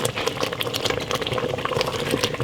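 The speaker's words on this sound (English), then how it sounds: "Then I'm going to let it boil hard for 2 minutes" Steady, dense bubbling of cranberry-strawberry jam boiling hard in a pot, continuous and close, with no voices.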